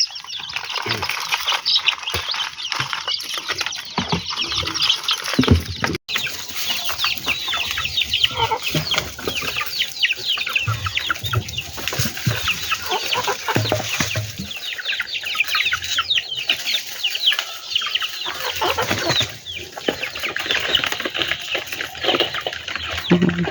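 Chickens clucking nearby for a long stretch, busy overlapping clucks and squawks with occasional wing flapping, plus faint human voices now and then.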